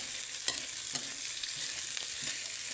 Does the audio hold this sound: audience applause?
no